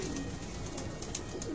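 A flock of racing pigeons in Lyari, Karachi gives a steady, low, rolling cooing nearby, alone and without any voices.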